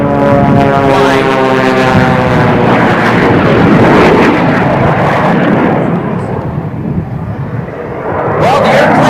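A jet-powered Waco biplane flies an aerobatic display, its loud engine roar sweeping with a shifting pitch before it dips briefly and returns, while an announcer speaks over it.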